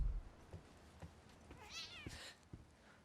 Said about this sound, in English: Oh, kitty cat, you scared me.